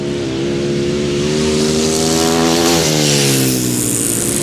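A grasstrack racing motorcycle engine roars loud and close at a grasstrack meeting, a steady harmonic howl that holds, then drops in pitch as it passes, with no talking.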